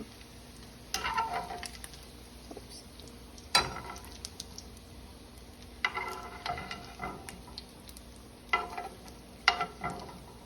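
Bacon sizzles steadily in a pan, broken by light clinks and scrapes of a utensil lifting the crispy pieces out, with no one speaking.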